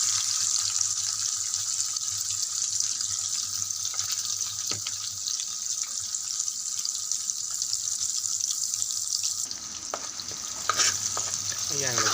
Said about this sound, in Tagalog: magigisa na tayo ng sibuyas at bawang para sa ating adobo